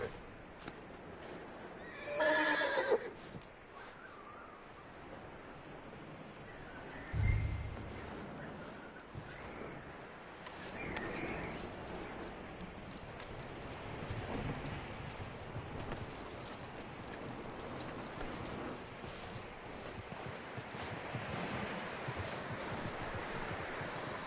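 A horse in Red Dead Redemption 2 gives a loud whinny, then its hooves clip-clop steadily under a rustling ambient background for the rest of the stretch.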